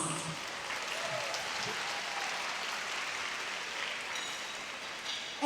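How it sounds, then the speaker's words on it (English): Audience at a Louisville Urban League Derby gala applauds during a fundraising appeal, a steady, moderately distant wash of clapping that holds evenly throughout without voices on top. "Give yourselves a big round of applause."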